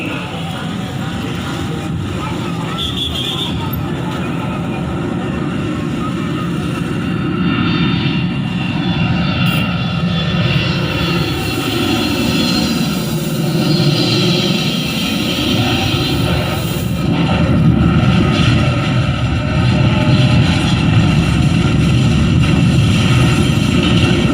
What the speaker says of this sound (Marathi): वो देखो हिंदुस्तान का फाइटर प्लेन गिर रहा है